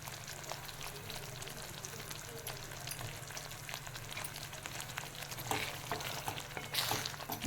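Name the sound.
egg masala gravy simmering and boiling in pan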